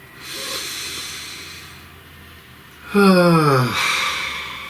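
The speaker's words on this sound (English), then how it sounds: "Please take a nice deep breath." A slow, deep breath is drawn in softly, then let out as an audible breathy exhale with a voiced sigh, close and alone in a quiet room.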